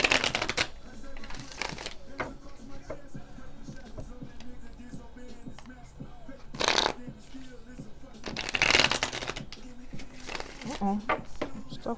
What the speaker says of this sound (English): I also like to shuffle on camera just to get the energy going.